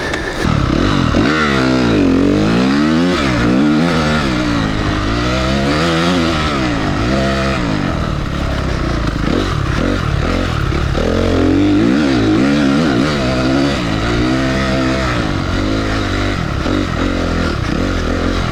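An enduro dirt bike on an off-road test lap, its engine loud and close throughout, revving up and down continuously with rising and falling pitch as the rider shifts and accelerates.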